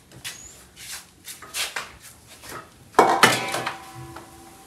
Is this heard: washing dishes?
yes